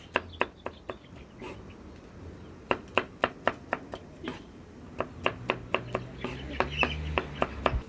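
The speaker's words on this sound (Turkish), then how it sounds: "Sarımsağımızı küçük küçük doğruyoruz." Garlic cloves are chopped finely with a knife on a board, a series of crisp, close taps in quick bursts with brief pauses, fairly quiet against a soft background.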